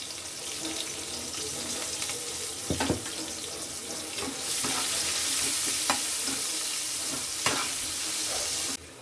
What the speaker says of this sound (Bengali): ওই তেলের মধ্যেই দিয়ে দিচ্ছি কুচিয়ে রাখা পেঁয়াজ পেঁয়াজগুলো হালকা করে ভেজে নেব